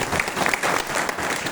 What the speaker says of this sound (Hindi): एक बार सब लोग अपने अपने लिए ताली बजाए सर।